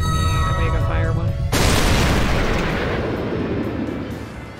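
Omega Fire spell erupting in Disgaea 2 on PC: a loud, sudden blast cuts off a musical passage and rolls on as a dense roaring wash that slowly fades over several seconds.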